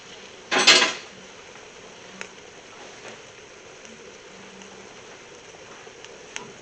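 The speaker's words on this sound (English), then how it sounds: "Ground beef, onion, all that cooked off. That goes back in." Cooked ground beef and onion tipped back into a pan, one loud clattering thud of food and utensil hitting metal, then quiet with faint scattered clicks and a low background hum.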